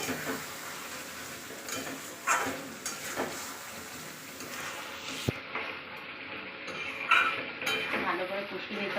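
Potatoes frying with Sunrise aloo masala spice mix for aloo dum sizzle and scrape in a pan, with irregular stirring clatters and one sharp utensil knock, fairly close, while someone speaks over the cooking.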